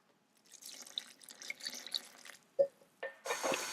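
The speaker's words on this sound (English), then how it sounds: "And then pour in the buttermilk." Buttermilk poured into red velvet cupcake batter, a soft liquid pour with brief drips and splashes, then a few louder sloshing bursts near the end, with no talking.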